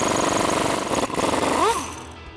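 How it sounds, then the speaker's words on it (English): A short, rattling burst from an impact wrench with a 19mm socket and extension loosens a bolt during a Jeep Gladiator JT front leveling kit install. The sound is close and loud, then trails off. "we're going to grab a 19mm socket, an extension, and an impact, and loosen this up"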